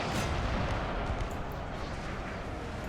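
Cannon fire in the Napoleon: Total War battle game, a dense, distant rumble of artillery booms layered over one another, fairly faint and continuous.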